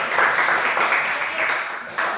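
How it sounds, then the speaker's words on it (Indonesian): Classroom applause for a student at a junior high school, a steady wash of clapping from a group lasting a couple of seconds, fairly loud and close. "tepuk tangan dulu buat Christine"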